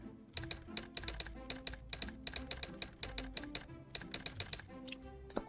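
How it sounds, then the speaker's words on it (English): Fingers type on a new computer keyboard meant to be quieter, producing a rapid, uneven stream of close, crisp key clicks that continues steadily with no speech. "I have a new keyboard."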